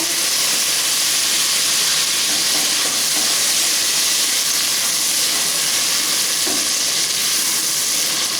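Lightly browned onions and a cup of chopped tomatoes sizzle loudly in a frying pan for a pickle-spiced tinda dish, a strong continuous hissing fry with faint stirring and no talk.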